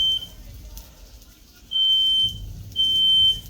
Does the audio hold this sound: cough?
no